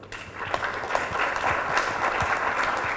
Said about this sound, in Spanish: a quien por favor les pido un fuerte aplauso